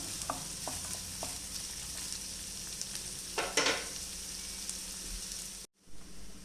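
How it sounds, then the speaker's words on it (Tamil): Onions frying in oil until golden brown, a steady broadband sizzle with a few soft stirring scrapes and a brief louder burst of clatter midway, ending in a short silence before the sizzle resumes. "வெங்காயம் கோல்டன் ப்ரௌன் கலர் வர வரைக்கும் நல்லா ஃப்ரை பண்ணி எடுத்துக்கலாம்."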